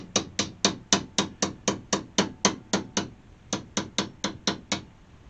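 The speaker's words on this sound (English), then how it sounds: "Just taking a little ball peen that's not got a real tight curve." A small ball peen hammer with a shallow curve taps stainless steel hood trim on a 1968 AMX, about sixteen sharp metallic strikes in a steady rhythm with a short pause near the end, close and clear with no talk.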